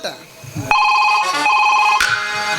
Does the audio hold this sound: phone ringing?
yes